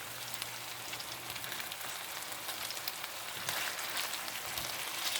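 Meat patties sizzling in a hot cast iron skillet, a steady broadband hiss and crackle that swells briefly louder as they are flipped, close and fairly quiet.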